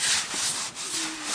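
Slightly damp rag wiped across a freshly sanded shiplap wall, a soft continuous rubbing hiss in a couple of swelling strokes, close and fairly quiet, with a faint brief tonal squeak near the end.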